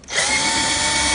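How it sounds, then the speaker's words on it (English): A power drill whirs up sharply and holds a loud, steady high-pitched whine for about a second, close by and alone. "you really know how to work power tools"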